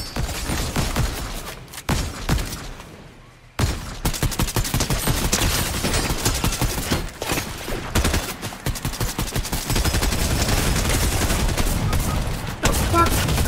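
Dense video-game gunfire rattles in rapid automatic bursts and volleys, loud and close, broken by a few short pauses and a brief lull before resuming almost continuously.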